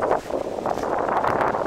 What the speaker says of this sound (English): the flags are blowing in the wind here. We have a nice breeze going.